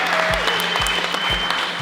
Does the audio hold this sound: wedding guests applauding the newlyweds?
yes